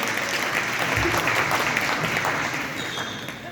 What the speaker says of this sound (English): You can clap if you want. That was definitely worth a clap, that one.